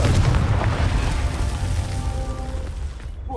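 A Confringo fire spell explodes in the wizarding game Hogwarts Legacy: a loud, deep booming blast with a rumbling tail that slowly fades over a few seconds.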